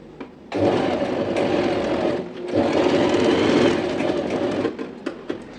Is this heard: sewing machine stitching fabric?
yes